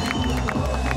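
Spectators at a BMX pro final crowd cheering and applauding, a dense, loud, continuous roar of voices and clapping.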